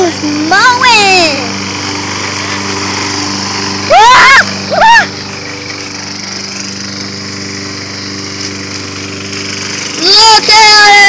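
A remote control robot lawn mower drones steadily while cutting grass, a constant loud engine hum running throughout, with excited voices, including a child's, cheering over it in several bursts.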